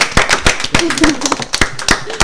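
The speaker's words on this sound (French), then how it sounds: "Allez, Ils sont 2, on peut les applaudir." An audience in a school setting claps for two choir members, with scattered, uneven hand claps ringing out close by over a couple of seconds while voices murmur underneath.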